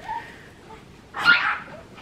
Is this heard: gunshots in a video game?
no